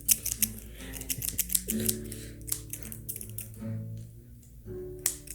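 Close, crisp snips of scissors cutting hair in quick irregular bursts, with soft rustling and a low hum in between.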